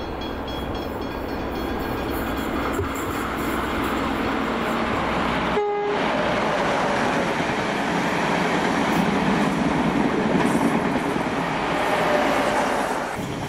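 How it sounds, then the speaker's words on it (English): An XPT passenger train to Melbourne rushes past close by in a loud, sustained roar of wheels and rail noise, with a brief horn toot early on. "Just 1 minute later, we get our first train."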